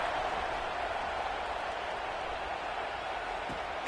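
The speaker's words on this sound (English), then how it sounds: "this crowd is buzzing after that last score" A football stadium crowd roars and cheers after a touchdown, a dense, steady wash of massed voices and clapping that holds at an even level throughout without a break.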